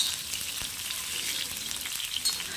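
Green chillies fry in a pan over a high flame with a dense, bright sizzle that stays steady and close throughout the short stretch, with no voices.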